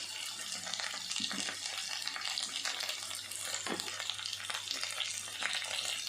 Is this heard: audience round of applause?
no